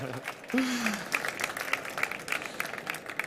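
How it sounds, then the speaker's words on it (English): Brief applause from a conference audience on an innovation stage at South Summit 2018, moderate and somewhat distant, with a voice briefly calling out as the clapping begins. "Big round of applause, please, for Javier."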